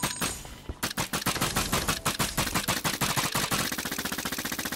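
Rapid, loud bursts of automatic gunfire from a weapon in the video game Minecraft Dungeons, a dense rattling stream of shots that quickens toward the end, heard alone with no talk.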